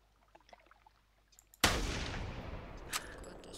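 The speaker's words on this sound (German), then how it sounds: "Schuss." A single sharp gunshot in theHunter hunting video game cracks out after faint quiet ticking, followed by a long rolling echo that slowly decays.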